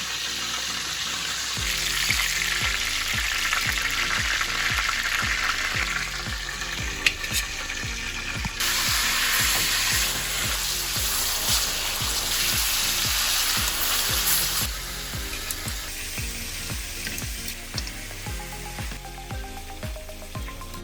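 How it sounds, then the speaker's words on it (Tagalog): Pork chops brown in a cooking pot, giving a continuous loud sizzle and spatter with rhythmic low knocks and bursts of stronger hissing, and no one speaking. "After browning our pork chops"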